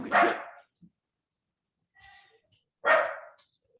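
A dog gives two loud, sharp barks about three seconds apart, close by, with quiet gaps and faint sounds between them.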